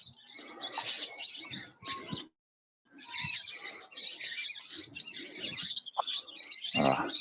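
Birds chirp and tweet busily, a flurry of quick high calls overlapping, with a short silent gap partway through and no talking.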